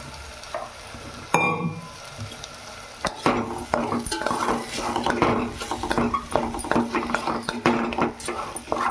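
Boiled potatoes go into a hot pan for aloo egg fried rice and are stirred vigorously. A sharp clatter comes early, then dense, rapid scraping and clinking over a loud sizzle fills the rest. No talking is heard.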